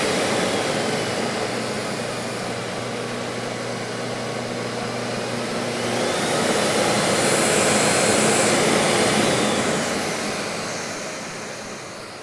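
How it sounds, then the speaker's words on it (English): A steady, loud whooshing drone of a Festool CT 36 dust extractor motor runs throughout, swelling slightly midway as its pitch shifts, with no talking. "we can switch it over to manual and the vacuum will come on"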